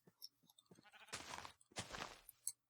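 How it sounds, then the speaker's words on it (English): A sheep in Minecraft gives two clear, close bleats, each lasting about half a second. Soft game clicks and faint movement sounds come before and between them. No one speaks. "Some sheep. We might see if we can kill those on a run."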